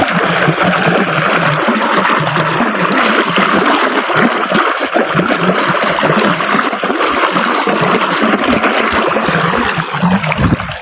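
Peanuts rinsed in a bowl of water, a steady close sloshing and splashing that runs continuously with no talk.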